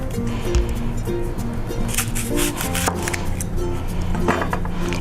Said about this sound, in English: we're going to chop our onion. Finely chop our onion